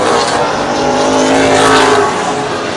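CRA late model sportsman race cars roar around Plymouth Speedway, a loud, steady blend of several engines at high revs with a slight swell as the pack passes near.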